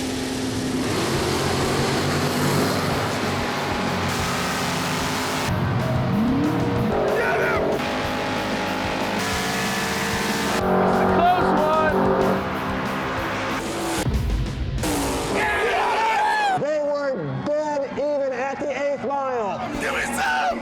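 A 1973 Chevy Nova with a 468 big block at a drag race, its engine roaring loud and near in long revving pulls with tire squeal, then fading as other sounds come in. Voices can be heard.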